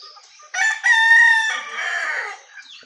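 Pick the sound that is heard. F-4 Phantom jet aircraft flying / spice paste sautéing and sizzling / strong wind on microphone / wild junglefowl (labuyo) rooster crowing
wild junglefowl (labuyo) rooster crowing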